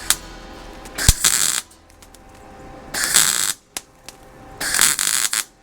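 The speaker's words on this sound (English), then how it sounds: "ratchet strap it together" A ratchet strap is tightened in three separate bursts of loud, rapid clicking and rasping, with quiet pauses and a few knocks in between.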